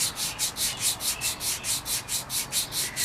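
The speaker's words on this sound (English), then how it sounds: "just sit out here and sand all my dolls" A composition doll is hand sanded outdoors, producing a close, rhythmic back-and-forth scratching of about a dozen even strokes in quick succession, with no voices.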